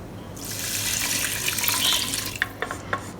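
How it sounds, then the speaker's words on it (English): Water poured from a tap into rice for cooking, 360 milliliters to match the rice, a steady rushing stream that swells and then breaks into a few splashy drips as it stops. "I'm adding in 360 milliliter of water, which is also 360 grams, equivalent to the rice."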